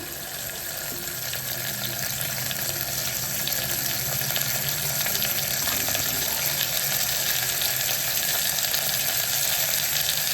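Chopped onion and green chili frying in a pan for beetroot rasam, giving an even, continuous sizzle that stays close and grows slightly louder, with no voices.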